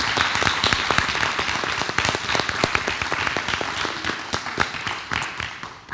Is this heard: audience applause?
yes